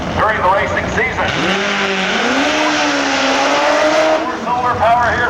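A nitromethane-fuelled 1,325 cc drag racing motorcycle makes a loud, sustained roar with rising and sliding engine pitch that carries through the whole run. Voices are mixed in over the engine noise.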